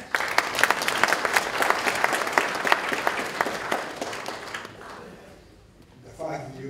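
Applause from a small audience at a celebration event honoring Kevin Lloyd, a dense patter of clapping that carries steadily for several seconds, then thins and fades into near quiet, with a faint voice starting at the end.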